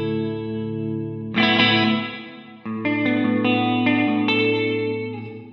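An electric guitar through a NUX Mighty Plug Pro plate reverb strums a few sustained chords, the bright, dense reverb smoothing the decay, each chord ringing on before the next.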